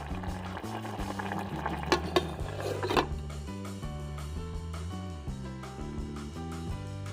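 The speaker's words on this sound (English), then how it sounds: "I have the tomatoes on a very, very low simmer." Tomatoes for salsa simmer very low in a pot, giving faint, soft bubbling and popping close by, quiet under a steady background of music.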